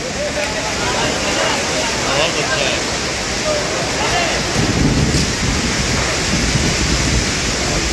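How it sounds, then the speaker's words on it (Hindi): Steady rain pours continuously throughout an outdoor poetry recital at a block foundation day ceremony, a dense even hiss, with people talking faintly beneath it. "बारिश तो हो रही है।"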